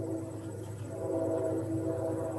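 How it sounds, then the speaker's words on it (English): A train runs along a track close to a house, a steady loud rumble with a low drone and tonal hum that holds and swells slightly throughout, with no talking. "Oh, that's a train."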